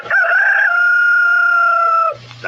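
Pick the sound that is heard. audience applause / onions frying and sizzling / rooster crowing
rooster crowing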